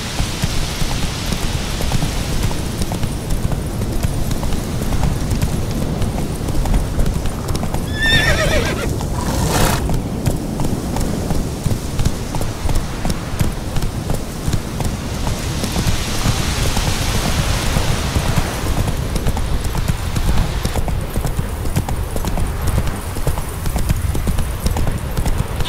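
Roach the horse in a video game, hooves clip-clopping steadily at a run throughout with a brief whinny partway through, over a continuous rain-like hiss and low rumble.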